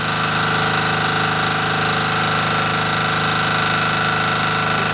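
A small inverter generator engine runs steadily at a constant drone, close and loud, with a continuous mechanical hum and no variation.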